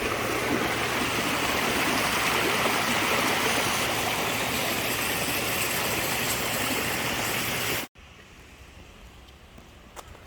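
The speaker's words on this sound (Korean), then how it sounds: "이 계곡에 물도 흐르고" Mountain valley stream rushing steadily and loudly near the listener for most of the stretch, then cutting off abruptly to a faint, quiet background near the end.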